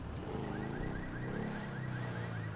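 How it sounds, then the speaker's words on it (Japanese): A car alarm going off in the GTA 5 video game, a steady repeating electronic whoop sounding at moderate distance over a low rumble of traffic and engine noise. "めっちゃなんか警報器が作動してるんですけどね。"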